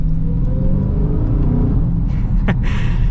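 A deep, loud supercharged V8 engine of a 2022 Dodge Charger Hellcat Widebody rumbles close by, with light throttle blips making the revs rise and fall.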